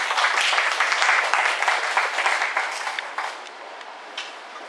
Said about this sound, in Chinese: 那今天就请大家先用热烈掌声来欢迎我们的新老师